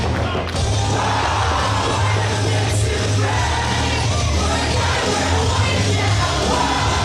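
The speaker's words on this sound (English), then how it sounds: "You can hear this crowd and that energy that you talked about." A wrestling crowd at an independent show cheering loudly and continuously, with a dense roar of yells, whoops and shouts over heavy low-end rumble that stays at full strength throughout.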